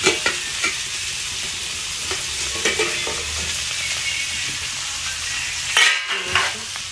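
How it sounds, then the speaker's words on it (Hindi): Okra (bhindi) frying in a pan with tomato and spices, a loud, continuous sizzle broken by scraping stirs and a few clinks of the spoon against the pan. "मेरी भिंडी फ्राई हो रही है।"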